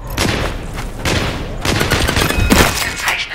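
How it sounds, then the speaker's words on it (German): Rapid bursts of video game gunfire, several loud shots in quick succession filling the clip with sharp cracks and booming echoes. "Ausgezeichneter Schuss."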